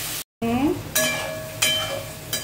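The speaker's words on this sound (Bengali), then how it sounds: "একটু ভিনেগার দিয়ে এটা নাড়িয়ে নেবো" Paneer stirred in a frying pan with a splash of vinegar, a steady sizzle with scraping stirs and a few clinks of utensil against the pan, heard up close.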